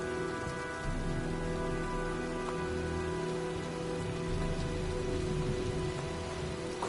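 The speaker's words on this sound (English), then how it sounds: "Well, looks like a storm's coming." Steady heavy rain in a video game, a dense constant hiss of falling drops, loud and unbroken, with a low rumbling undertone and no speech.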